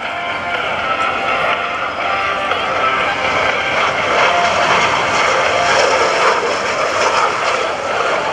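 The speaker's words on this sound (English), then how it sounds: "The L-39 you see flying before you during its takeoff is called call sign Bandy 1." An L-39 jet aircraft taking off at a 2014 naval air station airshow, a loud, broad roaring whine that holds steady throughout, with an announcer's voice partly mixed into the noise.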